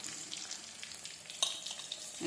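Crushed ginger and garlic fry in hot oil with a steady soft sizzle, broken by a few stirring scrapes and clinks of a utensil, heard close with no talking.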